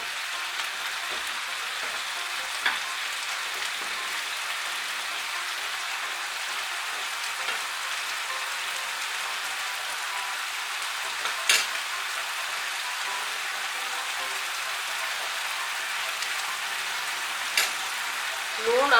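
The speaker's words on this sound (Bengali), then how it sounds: "নুন আর কাঁচা লঙ্কাগুলো ভালো করে মিশিয়ে নেব" Pui shak stirred in a pan with salt and green chillies: a steady, close sizzle of frying greens with occasional soft knocks and scrapes from the spoon.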